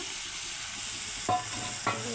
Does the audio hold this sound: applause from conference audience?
no